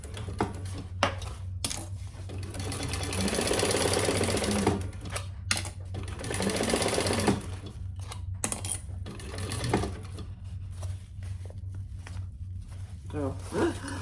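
A sewing machine stitches down the sides of a crossbody sling bag in bursts of steady whirring, stopping and starting over a low hum, with clicks and handling noises and a voice talking over parts of it.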